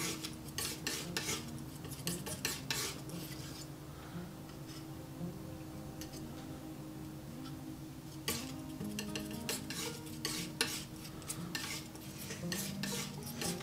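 A palette knife mixing ultramarine blue with a touch of burnt sienna oil paint on a palette, with close, repeated scraping and tapping strokes in bursts, busier at the start and toward the end.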